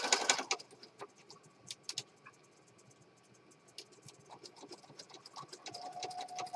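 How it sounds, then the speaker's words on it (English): A sewing machine stitching down the side of a journal cover, heard as quiet bursts of rapid mechanical chatter and clicks that start and stop, fairly faint and close, with no talking. "I'm going to do the same thing, just kind of start stitching."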